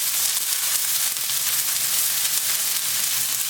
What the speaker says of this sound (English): That sizzle, you hear that sizzle?